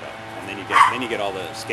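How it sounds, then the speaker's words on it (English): A pet dog barks and yips in the background of a home interview, a few short sharp calls partly masked by someone talking over them. "That's my dog barking in the background."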